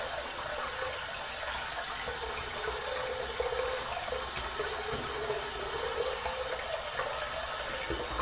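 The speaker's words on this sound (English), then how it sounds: "let's get the razor. Let's heat it up under some hot water" Hot tap water runs in a steady, continuous stream close by over a Pal Injector adjustable razor, with no voices.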